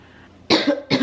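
Two harsh coughs close to the mic, the first a longer hacking burst, the second brief after a short pause, in a quiet room.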